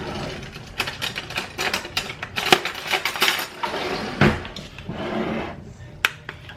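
Leftover baked beans are scraped into a small crock pot. Close, busy scraping and thick wet scooping repeat in quick irregular strokes, with a few louder knocks of the spoon against the crock.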